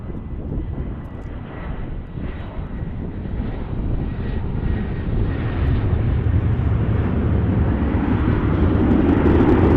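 An Airbus A319 at DFW airport roars with a broad jet engine rumble that swells steadily louder as it nears, with no voices over it.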